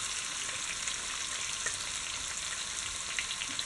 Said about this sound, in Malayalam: സവാള നന്നായിട്ടൊന്ന് ഫ്രൈ ആക്കി എടുക്കണം, ഒരു ചെറിയ ഗോൾഡൻ കളറാകുന്ന വരെ.